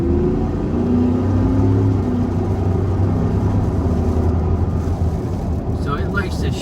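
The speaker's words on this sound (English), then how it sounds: "I don't have my microphone on because I want you guys to be able to hear the truck." A 2026 supercharged Ford Lightning pickup with a 10-speed transmission drones steadily while driving, its engine note close and loud, with pitch steps as it moves through the gears.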